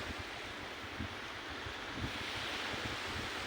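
Steady wash of ocean surf rolling onto a beach, with gusts of wind buffeting the microphone throughout; no voices.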